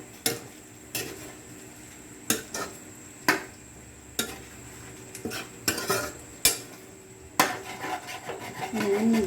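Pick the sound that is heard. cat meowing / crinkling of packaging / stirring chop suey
stirring chop suey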